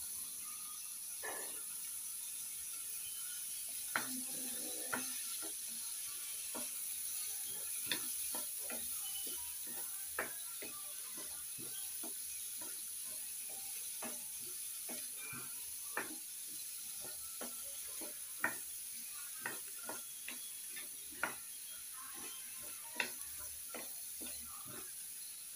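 Diced chayote and onions frying in a pan while being stirred, a steady faint sizzle under scattered scraping clicks of a spoon against the pan, without talk.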